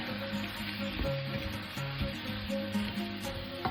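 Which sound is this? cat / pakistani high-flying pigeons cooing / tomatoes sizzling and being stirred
tomatoes sizzling and being stirred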